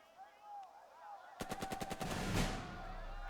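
A rapid burst of gunfire crackles in a WWII tactical war game, about eight sharp reports in quick succession followed by a heavier blast, with a faint voice beforehand.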